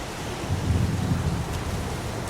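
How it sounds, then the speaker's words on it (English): In the video game Heavy Rain, steady pouring rain hisses continuously, with a low thunder rumble swelling briefly near the middle. "It's pouring rain."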